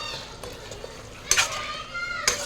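Chicken curry being stirred in a pan after chili and coriander powder go in, a soft scraping stir with light sizzling and a couple of sharp utensil clinks against the pot, close and moderately quiet.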